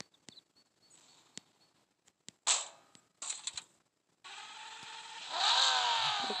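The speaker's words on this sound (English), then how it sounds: "Did you hear that rev?" A fast car in the Roblox video game revs its engine, a rising whine that swells near the end after scattered clicks and short bursts of game sound effects.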